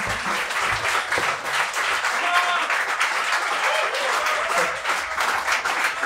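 A concert audience applauds the musicians on stage: a continuous, full wash of clapping from a large crowd, loud and even for the whole stretch, with faint voices mixed in.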